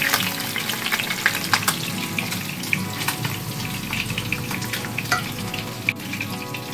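Pabda fish frying in hot oil in a kadai, a steady loud sizzle with crackling pops and spatters throughout, no talking.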